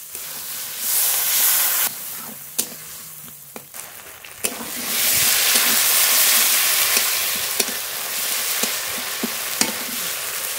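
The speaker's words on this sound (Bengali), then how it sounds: "হলুদ গুঁড়ো, সামান্য একটু জল দিয়ে মশলা খুব ভালো করে কষিয়ে নেব।" Spice paste with turmeric powder and a splash of water fries hard in a pan for a Bengali bhola fish curry, a loud steady sizzle and hiss broken by sharp clicks of a stirring utensil, with no voices.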